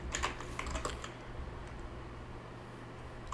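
Quick clusters of keystrokes on a computer keyboard as a SQL query is typed, soft close clicks coming in bursts at the start and then thinning out over a quiet hum.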